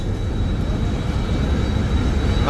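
Engine of a passenger river launch on the Barishal–Dhaka route drones as a loud, steady low rumble close by, with a faint high whine over it.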